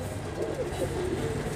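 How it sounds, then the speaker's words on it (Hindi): Kalmuha pigeons, a pair of high-flying pigeons kept in a loft, cooing softly in a steady low murmur that runs through the whole moment without any talk. "अच्छे कबूतर हैं माशाल्लाह"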